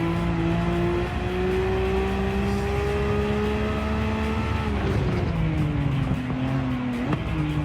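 A race car in Gran Turismo 7 at the Nurburgring 24 Hour runs wide through the grass and rolls over, its engine droning steadily with shifting pitch and a brief knock near the end.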